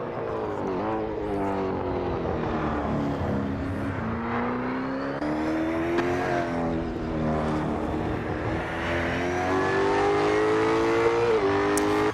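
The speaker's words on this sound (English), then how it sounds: "These cars sound fantastic as" V8 Supercars engines in a sim racing video game, a continuous loud engine drone with rising and falling pitch as the cars rev, shift gears and accelerate, with no talk over it.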